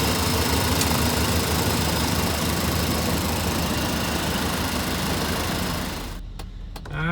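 A Chevrolet square body truck engine idling as it warms up after a transmission install, a loud, steady, close rumble that drops slightly near the end.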